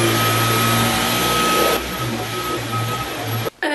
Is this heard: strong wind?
no